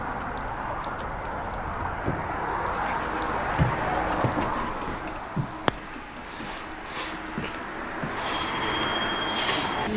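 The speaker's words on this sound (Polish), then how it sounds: "Jedziemy sobie tramwajem." Steady rumbling ride of an old tram on rails in the Czech Republic, with wheel clatter, occasional clicks and a faint high squeal near the end.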